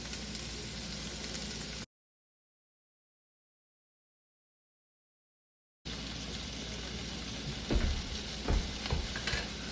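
Yellow onions cook in a pot for chili, giving a steady, moderately quiet sizzle that cuts out for a few seconds and then returns, with soft scraping bumps near the end and no voices.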